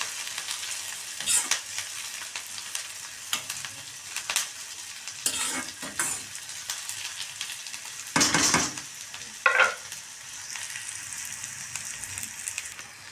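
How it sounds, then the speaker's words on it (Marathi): Curry leaves sauté in a pan for lentil dosa, giving a steady close sizzle with occasional louder scrapes and stirring strokes throughout. "कढीपत्ता पण एक दोन मिनिट छान परतून घ्यायचा आहे"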